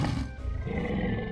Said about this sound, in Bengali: আরে, এটা তো শের খানেরই আওয়াজ।